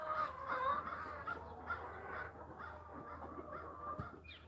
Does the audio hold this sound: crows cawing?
yes